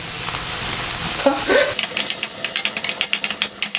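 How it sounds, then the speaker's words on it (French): Shrimp flambéed with calvados in a hot pan: a loud, close sizzle and hiss, with a short whoosh-like flare, then a run of quick, regular clicks or taps over the continuing fry. "je vais tâcher de flamber pour la première fois de ma vie. Waouh, ça flambe."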